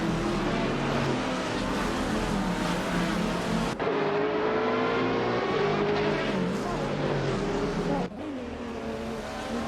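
Several GTR race cars circle the Mugello circuit in a racing video game, their engines droning steadily with shifting pitch and brief gear-change dips, loud and continuous throughout.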